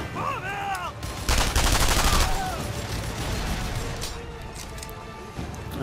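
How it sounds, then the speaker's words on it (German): A tank in Sniper Elite 3 fires a loud, crackling volley that lasts about a second, then a rumbling battle ambience continues, with some speech mixed in. "der Panzer ballert auch nur"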